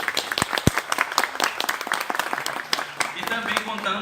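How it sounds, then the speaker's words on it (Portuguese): An audience at a lecture on the cangaço in Exu, Pernambuco, breaks into dense, lively clapping that fills the room, with voices calling out over it. "Uma salva de palmas para ele, gente."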